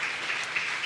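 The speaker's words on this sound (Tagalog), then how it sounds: "Minsan pa pinaka-the best sa palakpak sa Panginoon." A church congregation bursts into applause for the Lord in a brief, continuous wash of many hands clapping together, lasting under a second.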